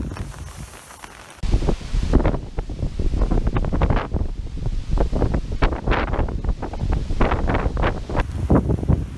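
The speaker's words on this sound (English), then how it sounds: "It is much windier under this tarp." Gusty wind flapping and buffeting a hammock-camp tarp nearby at Nordhouse Lake, a loud rush with repeated fluttering bursts that kicks in suddenly and keeps going.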